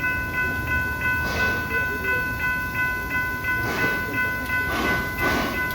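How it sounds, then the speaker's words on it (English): Amusement park train passing by at Busch Gardens, a steady rolling rumble with repeated hissing bursts and a sustained tonal whine throughout, moderately close, no speech. "let's wave at the train as it goes on by."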